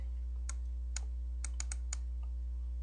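Keys on a computer keyboard click in a short burst of taps at an uneven pace, close and fairly quiet over a steady low electrical hum.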